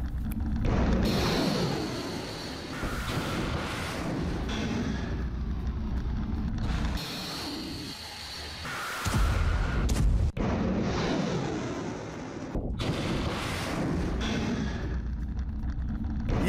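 Footage of a Fateh 360 missile launch carries a series of heavy, roaring rumbles and blasts that swell and break off several times, with sharp cuts between them.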